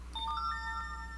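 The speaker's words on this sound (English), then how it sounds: "sorry about that, that's my phone" Mobile phone ringtone going off indoors, a short bright electronic chime of rising tones, clear and alone, lasting about a second.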